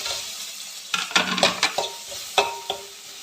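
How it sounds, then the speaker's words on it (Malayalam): Chopped ginger and curry leaves crackle and spit in hot oil, loud bursts of sizzling with sharp pops and a few utensil scrapes over a quieter hiss. "ഇതിലേക്ക് നമ്മൾ അരിഞ്ഞു വെച്ചിരിക്കുന്ന ഇഞ്ചി ഇട്ട് കൊടുക്കാം അതിൻ്റെ കൂടെ നമുക്ക് കറിവേപ്പില കൂടി ഇട്ട് കൊടുക്കാം എന്നിട്ട് നന്നായിട്ട് മൂപ്പിച്ചെടുക്കാം"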